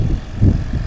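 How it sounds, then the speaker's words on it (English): A Yamaha Apex 160 hp snowmobile engine powers a STOL aircraft at a competition, a steady close propeller drone pulsing briefly louder in a short burst. "You hear that Yamaha Apex 160 horse engine"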